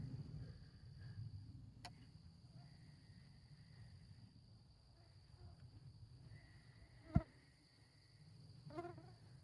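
Insects fly around at night near a graveyard, faint buzzing and whining passes over a low hum, with one sharp tap partway through.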